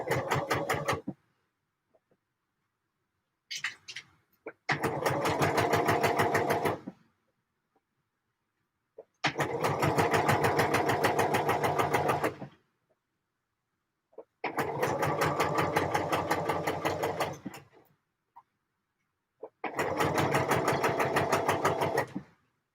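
A domestic sewing machine stitching in four long, steady bursts of rapid mechanical whirring and needle clatter, with near silence and faint handling noises between runs.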